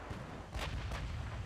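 Battleship turret guns fire in the naval strategy game Ultimate Admiral Dreadnoughts, with a British battleship fleet engaging destroyers: two heavy booming salvos with a rumbling tail, loud and close.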